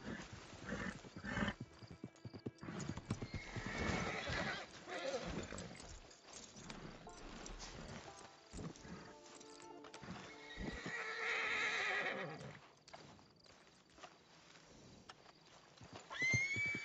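A horse in the video game Red Dead Redemption 2 whinnies loudly and its hooves clip-clop steadily throughout, close and continuous.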